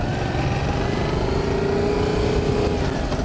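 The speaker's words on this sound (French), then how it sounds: "La moto fait plutôt un bon bruit." A Yamaha MT-07 motorcycle engine runs loud and close during a ride, a steady throbbing drone with a rising tone partway through, no talk over it.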